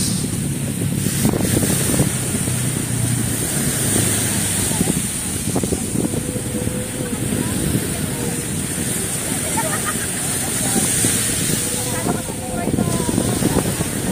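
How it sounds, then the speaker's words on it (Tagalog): Strong wind gusts and waves roll along Manila Bay as a steady, loud roar that lasts throughout, with occasional low thumps and a rumble beneath. "Lakas ng hangin, pati alon mga kababayan."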